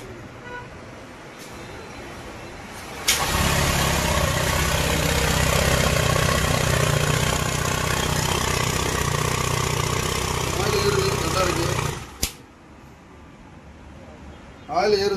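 A TVS Jupiter BS6 scooter engine kicks to life with a sudden roar and runs at a steady idle for about nine seconds before cutting off; a voice talks around it.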